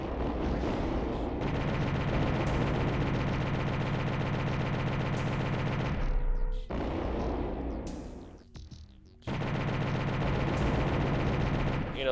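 Enemy gunfire in a PS1 video game, a dense, loud stretch of rapid shots layered over steady game music, broken by a short near-silent gap before the barrage resumes.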